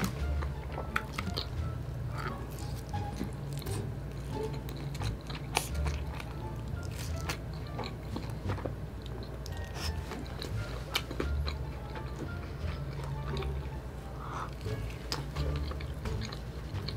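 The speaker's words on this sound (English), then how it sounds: "she's eating homemade and very saucy animal fries" Close mukbang chewing and biting on homemade animal fries heavy with sauce and cheese, a steady run of soft wet munching with small crunches, no talking, over a low constant hum.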